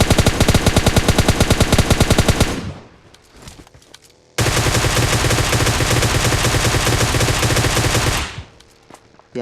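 Rapid automatic gunfire in a rush-style mobile shooter match, with two guns emptied back to back: a long loud burst, a brief lull of scattered shots, then another sustained dense burst before it cuts off.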